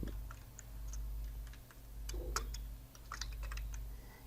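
Keys clatter on a computer keyboard while text is entered into a document in MS Word, in short uneven bursts of soft clicks at close range against a low steady hum.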